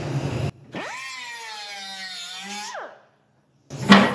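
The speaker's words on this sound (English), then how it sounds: "How easy does the grinder cut through it?" An angle grinder cuts the steel of a 1955 Chevrolet Nomad door, spinning up to a sustained high whine for about two seconds before winding down, close and loud, with a sharp clatter after a short pause.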